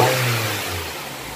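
A car engine idles steadily at around 789 rpm during a diagnostic check, a close, even mechanical hum with a slight dip in pitch over a brief moment.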